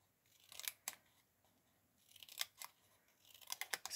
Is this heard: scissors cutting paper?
yes